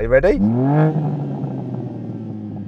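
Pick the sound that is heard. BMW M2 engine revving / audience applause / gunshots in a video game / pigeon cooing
BMW M2 engine revving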